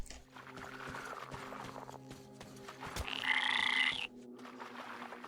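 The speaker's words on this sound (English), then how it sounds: "Frogs." In the video game Metro, a frog croaks in a loud, buzzy, rattling call lasting about a second, set against a quiet ambient game background with soft footsteps and faint tonal hum.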